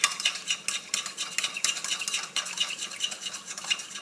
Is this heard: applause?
no